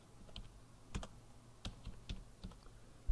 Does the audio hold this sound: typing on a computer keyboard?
yes